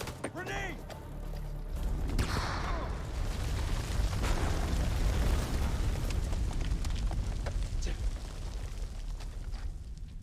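A grenade blows up in the video game House of Ashes, a loud rumbling blast with a long roaring tail of debris and low boom, heard amid game effects.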